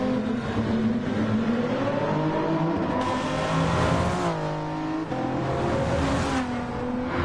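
JGTC GT500 race cars in a Gran Turismo 7 race roar continuously up close, their engine notes rising and falling as the cars rev and shift, with no voices over them.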